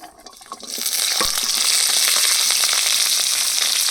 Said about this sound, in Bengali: তেলের মধ্যে দিয়ে দেবো কাঁচা লঙ্কা পেঁয়াজ কুচি এখানে নিয়ে নিয়েছি একটা গোটা রসুন ছাড়িয়ে নিয়েছি সব একসাথে দিয়ে ভেজে নেব